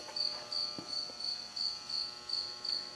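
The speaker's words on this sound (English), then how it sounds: "There's all kinds of bugs out here tonight too" Insects chirp outdoors at night, a steady high-pitched pulsing trill repeating about every third of a second, fairly faint and continuous with a few soft knocks underneath.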